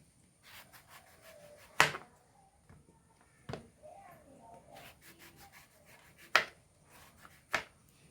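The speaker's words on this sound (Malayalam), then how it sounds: "ഇതിൻ്റെ രണ്ട് ഭാഗവും ആദ്യം മുറിച്ചെടുക്കണം" Several sharp knife chops on a cutting board as a wild lemon (vadukapuli) is cut for pickle, spaced irregularly, with quieter scraping and rubbing between them, close and distinct.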